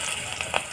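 Pumpkin spinach leaf fritters coated in rice flour batter frying in oil, giving a soft close sizzle with a couple of faint crackles over a brief moment.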